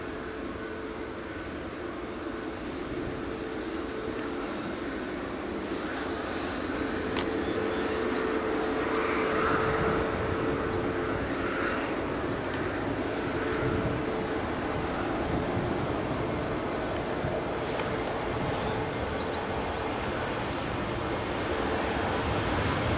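Airliners from American and Ryanair on the runway at Edinburgh Airport, heard as a steady, fairly distant broadband jet roar that swells slightly midway and holds, with no talking.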